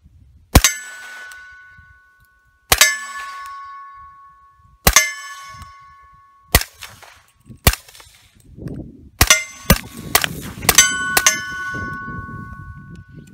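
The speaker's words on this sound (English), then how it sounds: "got Phantom M2 quick detach running 300 blackout subsonic." Suppressed 300 Blackout subsonic rifle fired through a YHM Phantom M2 quick-detach suppressor: sharp, ringing metallic cracks, several spaced shots followed by a quicker cluster of six near the end, close and loud with faint background rustle.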